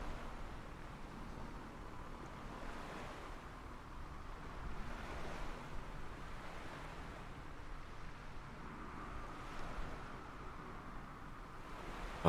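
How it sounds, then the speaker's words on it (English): Ocean waves at a Pacific Northwest backcountry airstrip, a faint, steady wash of surf with gentle swells, mixed with light wind noise and no talk. "I can hear the ocean."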